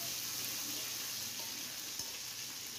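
Green chili paste and black cumin fry in hot oil while being stirred in a pan for a Bengali pointed gourd dish, giving a steady, broadband sizzle with a faint scrape of stirring.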